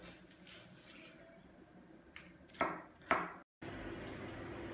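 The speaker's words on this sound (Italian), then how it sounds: "Ora tagliamo tutte le nostre verdure a dadini" Vegetables are diced with a knife on a cutting board for an Italian lasagna, with a few sharp, separate chops and clacks rising over quiet kitchen ambience and a brief dropout.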